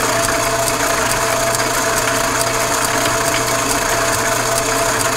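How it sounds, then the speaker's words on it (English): Steady machine cutting noise as a tool slowly shaves epoxy on a prototype steering sector, a continuous even whirring hum with faint regular ticking, close and unbroken throughout. "There, we're just starting to shave epoxy."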